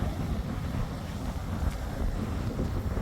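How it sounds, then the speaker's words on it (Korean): Strong wind roars without pause around a two-story tent pitched about two metres from the waves at a West Sea beach campsite, with a dense, steady rumble buffeting the microphone. "역시나 끝없는 바람."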